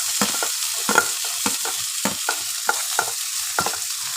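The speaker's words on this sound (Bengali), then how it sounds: "সব একটু হালকা করে একটু ভেজে নেব, খুব কড়া করে ভাজা লাগবে না" Chopped onion, ginger and mixed vegetables fry lightly in a pan for healthy oats vegetable balls, with a steady soft sizzle and a regular run of utensil stirring scrapes and taps close by.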